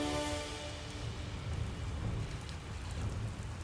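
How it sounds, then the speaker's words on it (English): Hard downpour of rain pounding steadily on surfaces, a dense continuous roar that stays loud throughout with no voices. "It starts downpouring."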